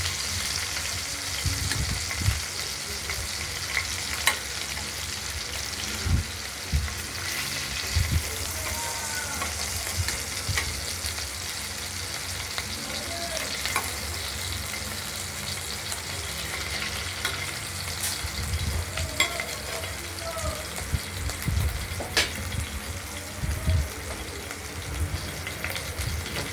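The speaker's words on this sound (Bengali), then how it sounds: "মাছগুলো এরকমভাবে ভাজা করবো হালকা।" Khoira fish fry lightly in hot oil in a pan, giving a steady, close sizzle with soft popping and crackling throughout. No talk is heard.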